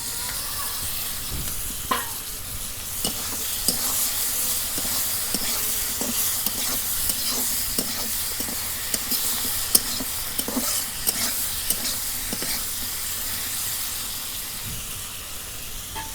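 Tomatoes frying in oil for a Bangladeshi village-style small-fish sour curry give a continuous soft sizzle, broken by repeated sharp clicks and scrapes of a utensil stirring the pan, with no one speaking.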